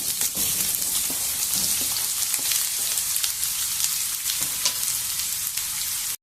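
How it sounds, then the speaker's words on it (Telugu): Onion pieces and green chillies fry in a pan with a steady, close sizzle and light stirring clicks, on their own with no voices, for the whole stretch. "ముక్కల్ని కొంచెం ఫ్రై చేద్దాము ఎక్కువ చేయాల్సిన అవసరం లేదు"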